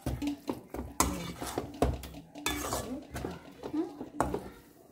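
A spoon scrapes and clinks against a pan while cucumber cake batter is stirred over a low flame, a steady run of metallic knocks and scraping under someone speaking throughout.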